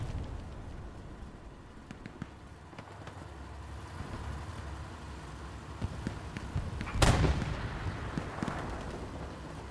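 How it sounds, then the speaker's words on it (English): Bombs going off during a bombing run on Omaha Beach in a war video game: a constant rumbling, crackling battle din with one sudden loud blast near the end, then a rough roar that fades. "Bombs going off."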